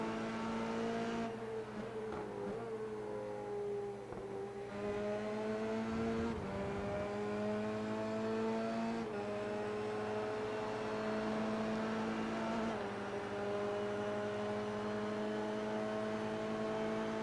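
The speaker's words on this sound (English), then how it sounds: "Hard on the rev limiter there" Formula 3 race car in iRacing at Road America held hard against the rev limiter, a loud sustained high-pitched engine wail that bounces and stutters at the cutoff, continuous throughout with no voices.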